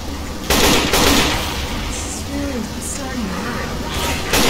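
Gunfire in a first-person video game, sharp loud bursts at the start and near the end, with game sound effects and people talking over the action.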